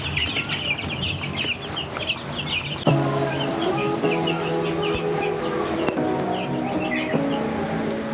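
Organic chickens cluck and squawk in a busy flock, sharp high calls scattered through the first seconds, then a louder burst of overlapping clucks and fowl chatter that carries on close and steady to the end.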